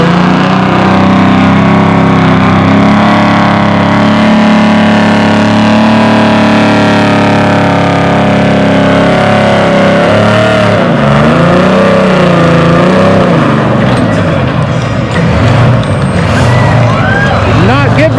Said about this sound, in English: a truck that big getting the wheels up that high, that's pretty dang cool